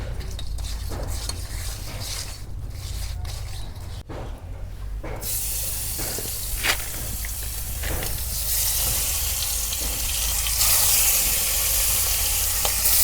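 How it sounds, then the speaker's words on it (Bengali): Koi fish fry in hot oil with a steady, continuous sizzle and crackle that grows louder and brighter toward the end, close up and alone. "কই মাছগুলো এখন আমি ভাইজা নেব, আর তেল গরম হচ্ছে।"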